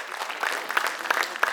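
Audience applause for Asmik after a Bengali recitation at a Poila Baishakh cultural programme: a short stretch of fairly soft, steady clapping with a few sharper claps, moderately distant, no voices.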